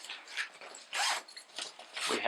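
A zipper pocket on the lid of a Sixpackbags Beast duffle bag being unzipped, several short ripping zip strokes in bursts at close range, with quiet rustling between them.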